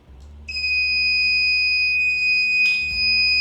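A small electronic buzzer on a homemade laser and LDR security alarm sounds a steady, piercing high-pitched tone, continuous and close, over a low hum.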